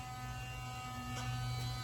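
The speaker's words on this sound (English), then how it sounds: "He's in there with his Sonicare toothbrush and just working it back and forth" Sonicare electric toothbrush buzzing steadily as it is scrubbed back and forth, a faint, continuous electric drone with a slight rise in intensity near the end.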